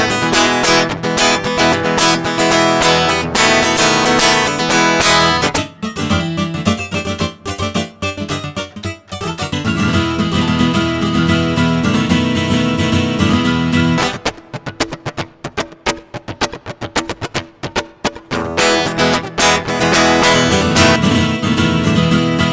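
Guitar playing a song with lots of rhythmic ghost notes, loud and continuous, with strummed chords and muted percussive strokes through a Fishman Triple Play pickup setup, with brief choppy stretches, no voices.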